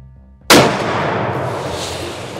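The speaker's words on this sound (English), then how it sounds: "I think that's what a shotgun does right there, folks." A single loud, close shotgun blast fired at a deer outdoors, a sharp crack followed by a long, broad rolling echo that fades slowly.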